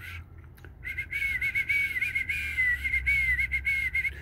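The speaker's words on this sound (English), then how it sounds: "He know that was you when you were whistling." A person whistles to call a squirrel, a sustained wavering high whistle that starts after a brief quiet moment and carries on steadily, moderately close, over a low background hum, no talk.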